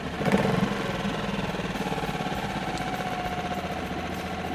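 A Hidea four-stroke outboard boat motor, a small 2.5–6 hp unit, idles steadily after warming up, a close, even mechanical putter with a slightly louder burst at the start and no talk over it.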